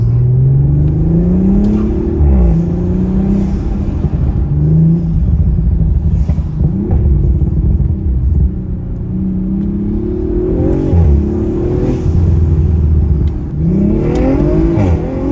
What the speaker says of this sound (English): You can hear the spool and real nice blow-off sound.